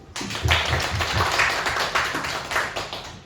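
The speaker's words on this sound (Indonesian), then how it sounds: "Kita aplaus dulu." An audience applauds after a presentation at an Indonesian health seminar, with a few loud close claps at first, then a steady patter of many hands for about three seconds.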